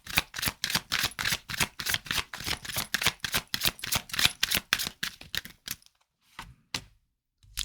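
Tarot cards being shuffled by hand: a fast, close, rhythmic run of crisp riffling flutters that slows and thins into a few scattered taps at the end, with no talk.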